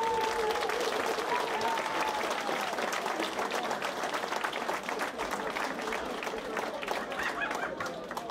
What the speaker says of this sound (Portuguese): e o Sr. José Borges, da Flórida, uma grande salva de palmas para eles